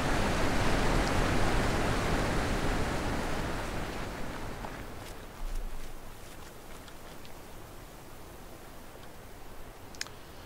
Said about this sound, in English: once we get away from the noisy waterfall